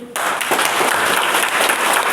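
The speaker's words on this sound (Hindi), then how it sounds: "इसके लिए हम रोज जोर से प्रभु को ताली बजाएंगे।" A church congregation at a Hindi-language worship service bursts into loud, sustained clapping for the Lord, a dense wall of applause starting abruptly and continuing steadily throughout.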